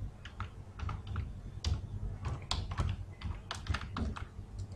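Keys click on a computer keyboard in an irregular, moderately quick run of close taps over a low background hum, with no voices.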